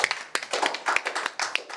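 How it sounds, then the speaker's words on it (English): Audience at a political gathering clapping for a speaker, a brief, fairly faint patter of scattered claps. "Can we give him a round of applause?"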